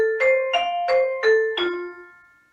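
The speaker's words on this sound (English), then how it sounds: "So if I hit the bars without the pedal," Vibraphone bars struck with the dampener on, five quick mallet hits in a short series, each tone clipped short with no ringing sustain.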